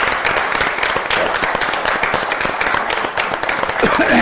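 An audience applauds the residents of the Casablanca medina with a dense, steady wash of clapping that holds at an even level from start to finish.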